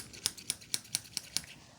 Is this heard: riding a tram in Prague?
no